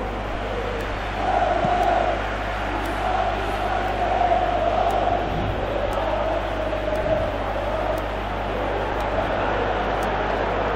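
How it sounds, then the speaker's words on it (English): A stadium crowd roars and murmurs during a Manchester City match in the eFootball video game, a steady swelling din with a low constant hum underneath and faint commentary voices. "you can hear how the crowd are reacting to this too"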